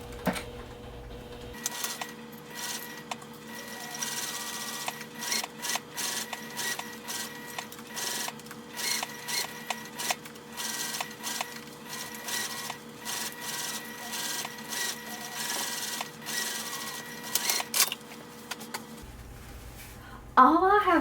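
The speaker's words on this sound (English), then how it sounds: "I'm just going to sew that right up against the edge, so just about 1/8 of an inch away all the way across." A sewing machine sews along the edge of a small fabric pouch, giving a continuous, even mechanical whir with fine rapid clicking that runs nearly unbroken, fairly soft and close.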